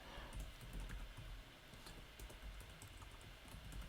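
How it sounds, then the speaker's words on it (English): Steady keyboard typing on a computer while composing a direct message, continuous soft key clicks at moderate distance with no voices. "I can type in here."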